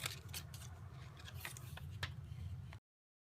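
Scissors trim a piece of stamped cardstock for a card, making a few quick snipping cuts with faint paper rustle close to the listener before sound cuts off abruptly.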